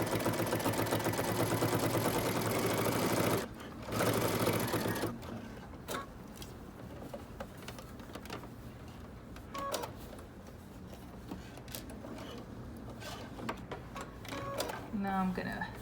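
A sewing machine stitches a dress seam with a 3/8-inch seam allowance, starting with a backstitch: a close, rapid run of stitching, then quieter, intermittent handling and short bursts.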